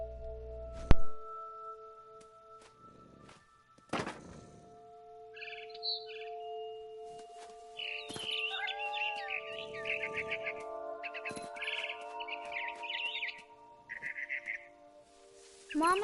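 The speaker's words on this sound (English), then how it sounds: "Then I heard chirping outside my window. It was a barn swallow going back to her nest." A frightened barn swallow chirps in What Remains of Edith Finch, giving bursts of short high tweets in scattered clusters, mostly near and moderately loud, over a faint steady hum with a few thumps.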